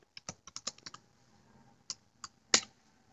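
Computer keyboard keys are typed in a quick burst of clicks, then a pause followed by a few separate keystrokes ending in one louder tap, close up and with no voices.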